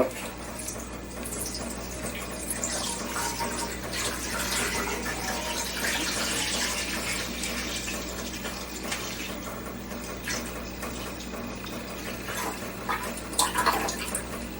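About a litre of milk is poured from a freshly opened carton into a cooking pot for homemade ricotta: a faint, steady liquid pour that lasts throughout, with no speech.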